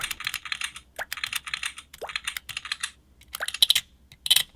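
Crisp clicks from metal physical trigger buttons on a gaming phone, pressed in quick bursts of repeated sharp taps with short pauses, close up and alone.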